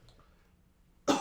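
A single sharp cough bursts out at the very end after a near-silent pause, a person choking after swallowing water down the wrong pipe.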